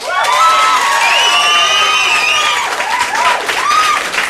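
An audience at an acoustic 1980s music show applauds and cheers loudly as a band is welcomed onstage, with whoops and shouts rising over steady, dense clapping throughout.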